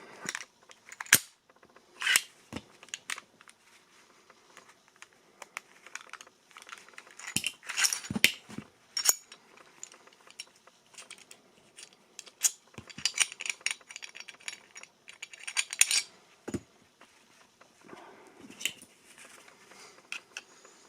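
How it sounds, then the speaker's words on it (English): A CZ pistol being handled: sharp metallic clicks and clacks as the magazine is released, scattered irregular bursts of mechanical handling noise up close, with no talk. "When you release the mag, it just drops down."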